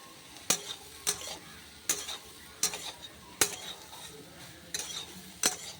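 Turmeric frying in a pan, with regular sharp scrapes of a metal spoon against the pan about once a second over a steady soft sizzle, close and clear with no talking.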